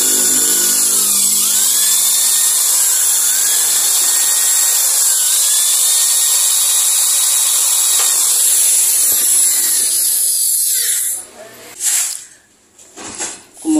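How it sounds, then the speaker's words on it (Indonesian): A small drill bit whines steadily at high pitch for about eleven seconds, close by, drilling the spark plug hole of a motorcycle cylinder head, then cuts off into brief clattering handling noises. "untuk pengelubangannya kita pakai mata bor yang kecil dulu ya"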